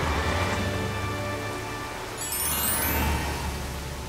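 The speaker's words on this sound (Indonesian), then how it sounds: "Hujan turun dengan lebat." Heavy rain pours down in a children's cartoon about a little bus, a steady dense hiss that swells slightly midway, with no voices.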